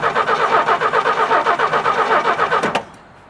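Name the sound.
1967 Chevy C10 engine running and revving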